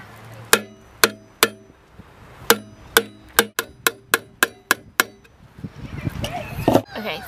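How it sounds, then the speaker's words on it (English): A hammer drives a flathead screwdriver into a tin can, a run of about fourteen sharp metallic taps in irregular bursts, followed by softer handling clatter and rustling at the end. "we're going to start our hole with a flathead screwdriver and a hammer"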